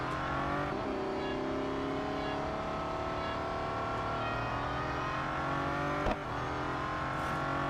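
A race car engine in the Real Racing 3 game, taking a lap round Le Mans at about 145 mph, drones steadily and loudly with shifting revs and a brief gear-change blip near the end. No one speaks.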